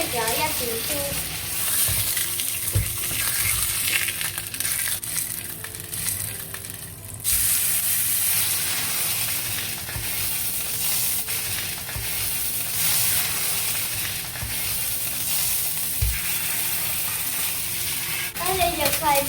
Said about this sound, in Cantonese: 咁我而家咧就開始煎豬扒啦